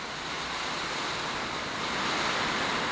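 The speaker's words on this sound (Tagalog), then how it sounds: "Babat ang tubig dagat." Sea surf and gusting wind during Super Typhoon Uwan form a continuous roaring wash on a stormy shore near beach cottages, swelling slightly louder toward the end, with rumbling wind buffeting the microphone and no one speaking.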